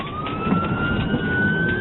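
A police siren wails steadily, its tone slowly rising, loud and close over the rumble of a moving vehicle.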